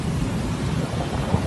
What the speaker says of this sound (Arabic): المطر على الدائر الثالث مكة المكرمة.